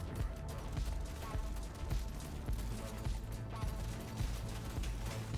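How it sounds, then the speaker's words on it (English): Leadstorm minigun firing in Deep Rock Galactic: Survivor, a rapid, continuous stream of mechanical shots with a clattering, rhythmic thump, loud and close amid dense game noise. "Come on, Leadstorm, shoot down."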